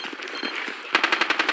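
Rapid automatic gunfire in the video game Battlefield 2: a short burst of evenly spaced, loud shots fires in quick rhythm, following a softer stretch of muffled, scattered game noise.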